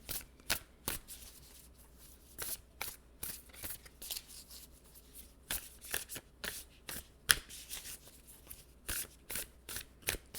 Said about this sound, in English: I'll pull a card from the Angels and Ancestors Oracle for you